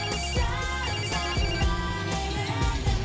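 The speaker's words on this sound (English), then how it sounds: "her performance gets interrupted by the world's loudest cell phone" A cell phone rings very loudly in a repeating electronic ringtone with steady rhythmic bursts, filling the clip alone without any talk over it.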